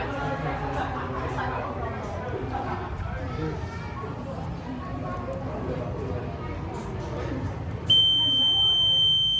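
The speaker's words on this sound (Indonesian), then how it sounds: "Lalu alarm akan berbunyi" Background chatter fills the room, then a rain sensor alarm buzzer, triggered by water sprayed on its sensor board, starts a steady high-pitched electronic tone near the end and holds loudly.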